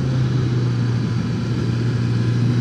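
A Suzuki GSX-S 1000GT sport-touring motorcycle rides through bends, its engine a steady, continuous drone mixed with rushing wind, with no voices over it.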